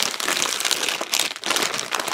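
Plastic packets of instant udon noodles with mushroom and tofu being handled and unpacked, a steady, loud, close crinkling and rustling that runs throughout with no pauses.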